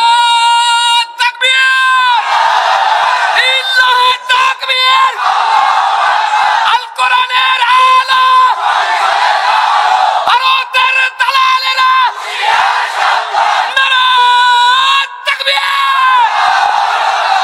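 A large crowd chants the Nara-e-Takbir slogan in loud, repeated call-and-response bursts of many voices, with short gaps between each shouted line.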